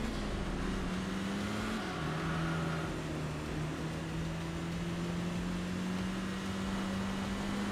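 A rotary-engined car in the racing game Enthusia Professional Racing drones steadily at high revs, briefly dipping in pitch before holding a constant whine over a continuous rushing roar.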